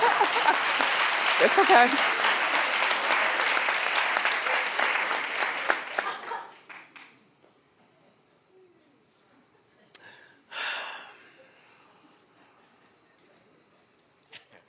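Studio audience at a daytime talk show claps loudly and densely for about six seconds, then stops abruptly, followed by a short spoken phrase and a faint scattered sound.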